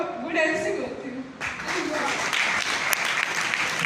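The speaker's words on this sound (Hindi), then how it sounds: "जोरदार ताली मैडम के लिए।" Audience applause at an IMC business seminar in Hindi, a loud sustained wave of clapping that swells after a brief voice and fills the room steadily.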